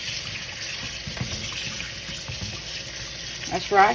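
Tap water runs steadily into a sink while meat is washed, a constant close hiss with small splashes. A voice speaks briefly over it near the end.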